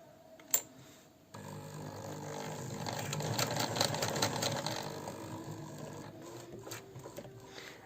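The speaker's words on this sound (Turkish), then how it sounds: "Biz şimdi buradaki dikdörtgenimizi normal dikdörtgen şeklinde dikiyoruz" A sewing machine stitches a closed placket rectangle in a close, rattling mechanical run that swells in the middle and tapers off, after a sharp click at the start.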